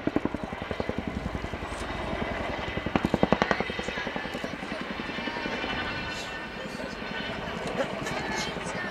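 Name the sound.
Chinook helicopter flying display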